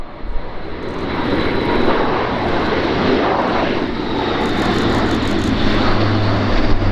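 An Airbus A400M Atlas military transport aircraft in a flying display at an air show, its turboprop engines droning loudly and steadily overhead with a continuous roar that holds throughout.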